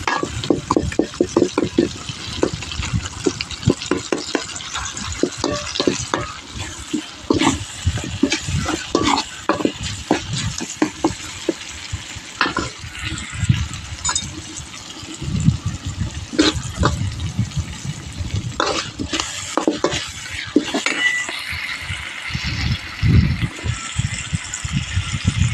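Onion, tomato and garlic cook in a pan, giving a steady frying sizzle broken by frequent sharp scrapes and clatters of a spoon, close and fairly loud throughout.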